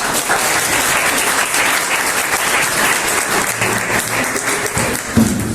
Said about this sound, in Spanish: con un fuerte aplauso demos la bienvenida